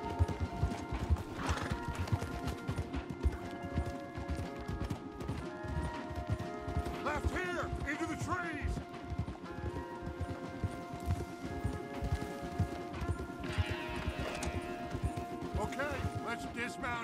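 Horses gallop in a video game, a steady rapid clip-clop of hooves running throughout, with whinnies and a swelling musical score underneath.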